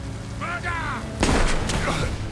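A single heavy gunshot booms out over a tense film soundtrack with rain, after a brief high vocal-like tone, leaving a dense rumbling tail.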